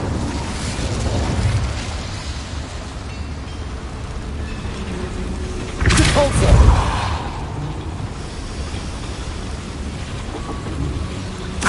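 Spell blasts in Hogwarts Legacy roar over a constant rumbling wash of noise, with a heavy booming burst about halfway through and talking mixed in.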